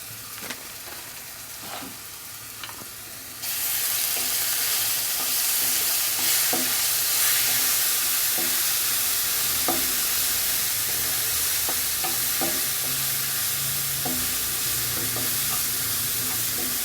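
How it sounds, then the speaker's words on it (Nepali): Spicy chicken feet frying in a pan with salt and turmeric give off a loud, steady sizzle that jumps up after a few seconds, with scattered stirring clicks and scrapes throughout. "एक मिनट जति म भुट्छु।"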